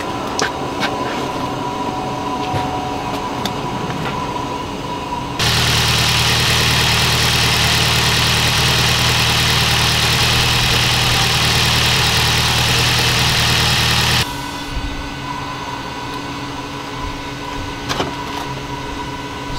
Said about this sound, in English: We're just going to quickly start it up, make sure nothing leaks,